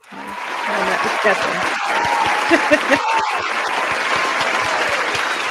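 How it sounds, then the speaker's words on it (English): Podcast hosts and listeners give a round of applause for guest Nomi Prinz. Brisk, fairly close clapping rises quickly and carries on steadily, mixed with chuckles and scattered voices. "Big round of applause."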